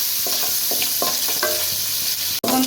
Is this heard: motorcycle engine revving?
no